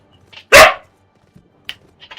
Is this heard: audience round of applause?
no